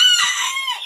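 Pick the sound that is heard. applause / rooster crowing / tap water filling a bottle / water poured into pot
rooster crowing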